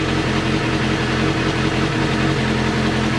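Suzuki GSXR 400 motorcycle idling while warming up, fitted with a cheap Chinese aftermarket exhaust; a close, steady, even engine burble with no revving, running alone.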